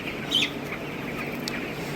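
Broiler chicks about two weeks old in a large farm shed cluck and cheep, with one sharp near call early on over a constant shed hum and soft background chatter of birds.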